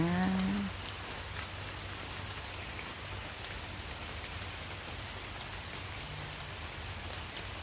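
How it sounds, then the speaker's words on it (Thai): Rain falls steadily with a soft, even hiss, after a brief faint tone at the very start; no voices. "สำหรับคนที่ชอบเสียงฝนนะจ๊ะฟังเสียงฝนค่ะทุกคนนะคะ"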